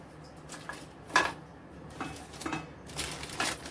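A spoon pats and scrapes a sticky amla and moringa candy mixture spread on butter paper, producing soft intermittent taps and rustles in an irregular rhythm, close and fairly quiet.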